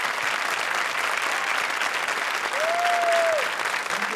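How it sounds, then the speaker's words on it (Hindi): Audience applause on an Indian comedy show stage, a steady dense clapping that holds loud and even throughout, with a brief tonal whistle-like note in the middle. "जोरदार तालियां"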